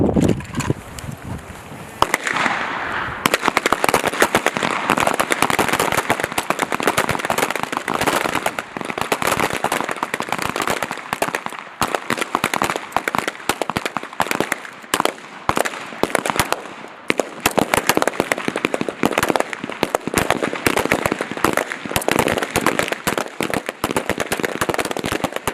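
Pistol gunfire on a range at the U.S. Army Small Arms Championships at Fort Benning, Georgia, as a dense, continuous barrage of sharp cracks from many shooters overlaps for over twenty seconds.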